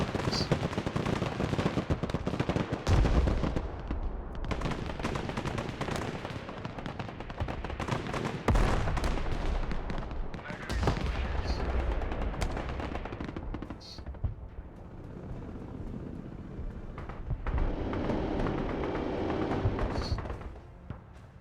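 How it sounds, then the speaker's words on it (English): Large-caliber wheeled anti-air gun firing in the war strategy game Broken Arrow, sustained loud bursts over a long stretch, easing briefly midway before more rapid volleys. "this is basically just a large caliber anti-air gun on wheels"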